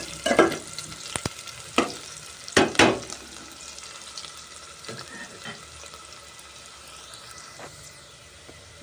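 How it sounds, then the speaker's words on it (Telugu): Onion and green chillies frying in a pan give a steady low sizzle, broken by a few sharp scraping stirs near the start, then settling into a quieter continuous hiss. "ఉల్లిపాయ పచ్చిమిరపకాయ అయితే వేగిపోయింది చూడండి"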